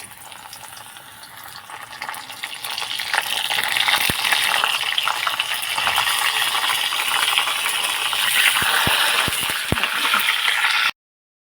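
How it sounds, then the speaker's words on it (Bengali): Pieces of pointed gourd (potol) fry in hot oil in a wok, a steady hissing sizzle that grows louder after a few seconds, with several sharp clicks and taps of a utensil near the end. "এইবার আমি পটলগুলো ভেজে নেব একটু হালকা করে"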